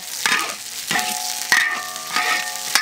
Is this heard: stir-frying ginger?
yes